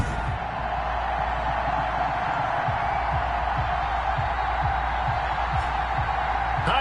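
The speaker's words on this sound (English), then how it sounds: "The enthusiasm of this Cincinnati crowd in full effect a moment ago as their Bengals took the field to the delight of this sold-out crowd" A sold-out stadium crowd in Madden NFL 21 roars with a steady, dense cheer as the Cincinnati Bengals take the field against the Baltimore Ravens, with scattered whoops rising over the continuous wash of noise.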